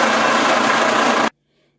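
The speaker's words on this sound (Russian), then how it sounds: "Пробиваю в блендере." A blender whirs loudly and steadily, blending melon seeds with their juice and half a glass of water, then cuts off abruptly into silence.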